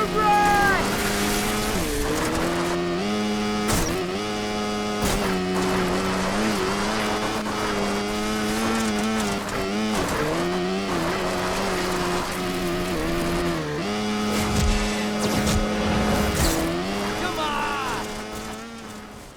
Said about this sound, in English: Tires spinning out in the dirt sounds great, and the loud engines of the ATVs are authentic